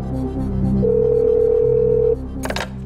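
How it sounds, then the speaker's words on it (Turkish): Telephone ringing on a Turkish TV quiz show set, a steady electronic ring tone sounding clearly for over a second, followed by a brief clatter as the call is picked up. "Çalıyor Cahit Ülkü'nün telefonu"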